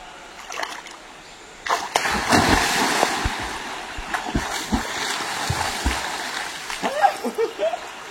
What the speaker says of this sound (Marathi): पाणी प्रचंड गार आहे, पहिली उडी मीच मारणार आहे